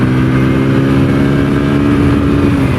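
A TVS Apache RTR 160 4V motorcycle accelerates in third gear, its engine droning loud and steady with a rising tone close to the microphone, with no talking.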